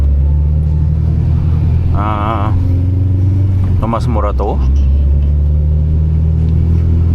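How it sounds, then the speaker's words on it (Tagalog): 2000 Honda Civic SiR on full exhaust driving on a rainy night in Quezon City, with a low, deep engine rumble throughout, close and loud, and someone speaking briefly over it in the middle. "napakaganda talaga ng huni ng full exhaust"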